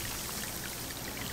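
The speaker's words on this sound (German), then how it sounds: "Nehmen wir unsere Wasserpistole mal mit." A water pistol spraying in LEGO Star Wars: The Skywalker Saga, heard as a steady hissing, pouring gush of water, even and unbroken for the whole moment.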